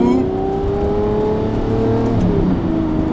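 Sports car fitted with a Fab Speed exhaust, its engine revving hard and loud up close, a rising throaty roar with swelling pitch that holds steady throughout, no voices over it.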